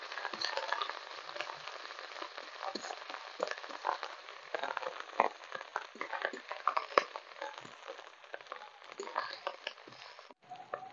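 A ground paste of poppy seeds, fennel and cashews fries in a pan with a steady crackling sizzle and scattered sharp pops, moderately faint and close.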